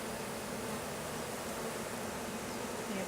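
Honeybees from a package being installed into a hive fill the air with a steady, dense buzzing that holds constant throughout, close and unbroken, with no voices.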